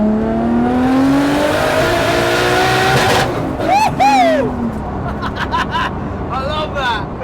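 Nissan Skyline R32 GTST with a 480 bhp RB20DET turbo engine accelerating hard on low boost, a loud rising engine note that climbs through the gears, with people talking over it.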